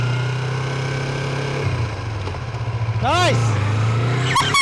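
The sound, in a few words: Yamaha MT-25 motorcycle being ridden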